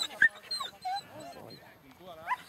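A dog at a hare-coursing competition whimpers and yips in short, high bursts, with people talking nearby over it.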